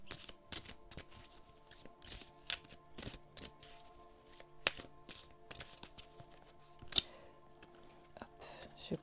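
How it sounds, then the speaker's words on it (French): Playing cards being shuffled by hand during a tarot-style reading, a quiet run of soft riffling and crisp snapping flicks, with faint breathy background and a few sharper card clicks. "je bats les cartes"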